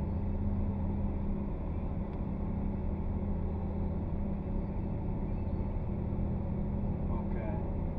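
Lamborghini Gallardo Super Sport creeping away slowly from a stop, a steady low engine rumble running close and loud beneath an instructor's voice.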